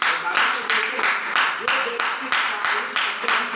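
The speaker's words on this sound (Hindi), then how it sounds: "डॉक्टर साहब से एक बार जोरदार तालियां होनी चाहिए।" An audience claps for a senior doctor at a gathering in a steady, rhythmic unison pattern of regular beats, loud and close, continuing throughout.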